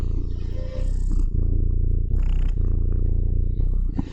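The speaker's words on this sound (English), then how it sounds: "She was purring" A cat purrs up close, a deep, continuous rumble that swells and eases with each breath, steady and loud.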